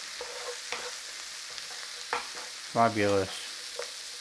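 A spoon stirs black pepper, salt and a pinch of thyme into a creamy tomato sausage sauce in a frying pan, giving soft scraping clicks over a low background hum, briefly interrupted by a single spoken word.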